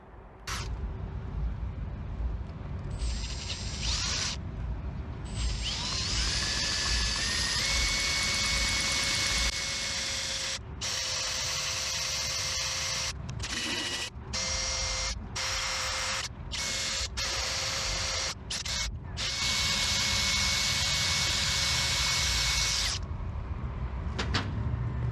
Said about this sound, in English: I'm going to grab the drill and clean this hole out